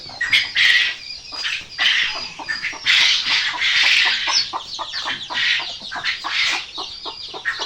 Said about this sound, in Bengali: বড় মুরগিগুলোকে এখন ছেড়ে দিব না, একটু আগে খাবার দিব, পানি খাবে